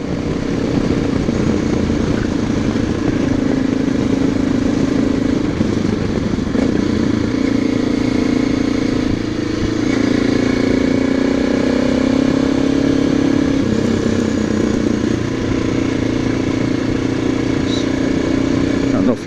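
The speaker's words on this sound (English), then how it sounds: "I'm really riding an Aprilia with a BMW badge on it and a Czechoslovakian motor" Motorcycle riding: an Aprilia wearing a BMW badge and powered by a Czechoslovakian engine, its steady engine drone and clatter running continuously throughout, with a voice talking over it.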